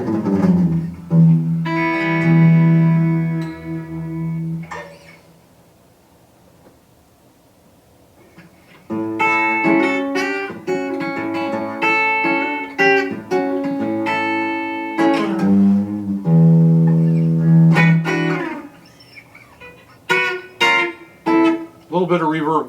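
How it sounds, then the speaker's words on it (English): An electric guitar played through a Keeley Memphis Sun pedal with reverb rings out in sustained chords and single notes with a clear lingering tail, pausing briefly before resuming in strummed bursts and choppy stabs. "A little bit of reverb goes a long ways with it."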